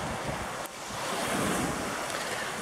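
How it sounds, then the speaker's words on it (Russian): Sea wind blowing in off the water at the shore during a fishing outing near Gelendzhik, a steady loud rush of wind noise on the microphone over breaking surf, with a brief dip partway through. "А ветер дует с моря"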